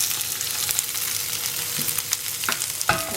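Tempering splutters and sizzles in hot oil for a South Indian dish with shallots and two dried red chillies, a steady close crackle with sharper pops near the end, no voices.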